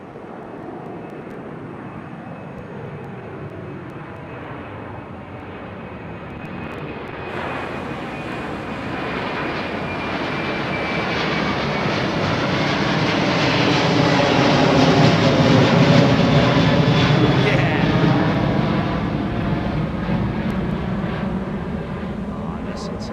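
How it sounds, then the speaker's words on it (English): An Airbus A330 with General Electric CF6 engines burbles past at London Heathrow, a low rumbling jet roar that builds gradually to a loud peak near the middle and then eases slightly. A voice talks faintly over it. "General Electric CF6, I think, on all their 330s. Burbling away."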